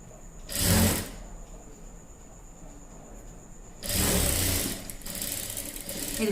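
A sewing machine stitches the lining of a langa-style blouse in two bursts, a short whirring run followed by a pause, then a longer steady run of close, fairly loud mechanical stitching.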